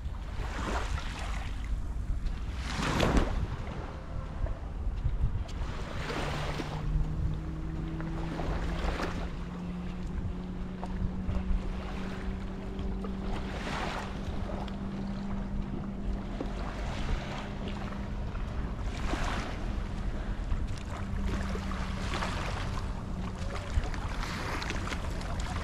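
Calm beach at Westmoreland, Jamaica, with gentle waves washing in softly at intervals under a steady breezy hush, a faint distant motor drone passing in the background.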